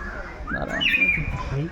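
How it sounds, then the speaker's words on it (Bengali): Colourful birds in an aviary at a Karnataka animal park give brief chirps and whistled calls over a second or so, with a voice talking nearby. "এখানে গাইস ইংলিশ ব্র্যান্ডের সব পাখি।"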